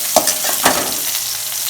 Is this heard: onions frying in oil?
yes